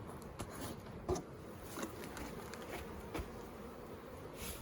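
Honeybees buzz at an opened beehive being inspected after smoke is applied, a soft, steady droning hum near the listener with faint scattered taps and rustles.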